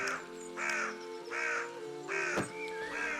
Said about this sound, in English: Birds don't need to be that loud.